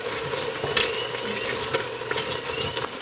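A roux stirred in a pan for Southern mac and cheese, giving a steady close sizzle and frying hiss with soft scraping strokes of the spoon running throughout, no voices.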